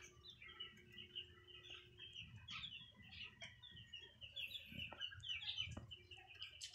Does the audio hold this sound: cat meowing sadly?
no